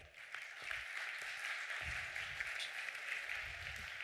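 An audience at a cultural heritage conference round table applauds in a steady, moderately distant patter that carries on evenly for several seconds.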